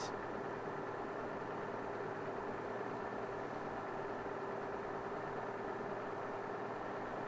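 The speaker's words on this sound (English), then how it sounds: "although my engine is running" A steady, low engine idle hums throughout with a faint rhythmic throb, continuous and unchanging, with no voices.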